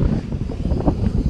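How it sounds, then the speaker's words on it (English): Gusty wind buffets the microphone in low, uneven rumbling bursts throughout the short moment, at the Wainstones on the North York Moors in April. "It's a bit windy in here."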